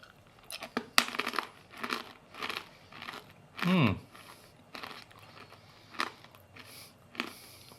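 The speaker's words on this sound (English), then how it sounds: "As you can probably hear, very crunchy peanut indeed." Repeated crunchy chewing of Japanese-style peanuts, several crisp bursts close to the mic with a brief louder low rumble midway.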